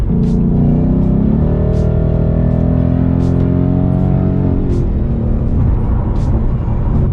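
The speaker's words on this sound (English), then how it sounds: "you can hear the exhaust, you can hear the wind blowing" A steady engine rumble and broad road and wind noise fill the cabin of a 2020 Ford Mustang GT Premium PP1, holding constant with a low exhaust drone throughout.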